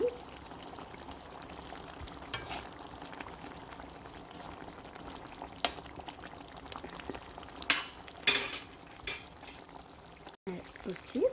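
Ghee goes into a pan of egg korma that is sizzling on the stove, giving a steady bubbling fry with a few sharp clinks of a utensil against the pan near the end.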